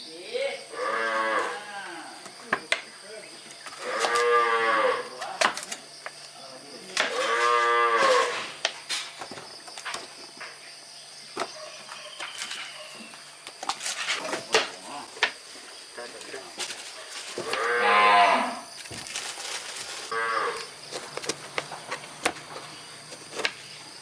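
Cattle, cows and a bull, moo in several long, loud, close calls spaced across the stretch as they are fed cut fruit, with rustling, handling noise and a steady insect drone between the calls.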